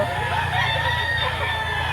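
A Golden Boy cross gamecock crows nearby in a long, drawn-out call over a steady background hum.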